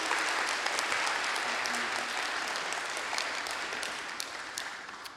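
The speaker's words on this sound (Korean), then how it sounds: "뜨거운 박수로 환영해 주십시오" A church congregation at a Sunday worship service applauds to welcome a missionary to the pulpit: dense, sustained clapping from a large crowd, steady throughout and tapering slightly toward the end.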